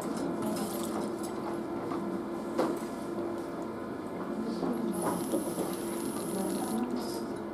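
Steady hiss of cold water running from a tap in an organic chemistry lab, continuous and fairly close, with faint clinks and a thin high tone partway through.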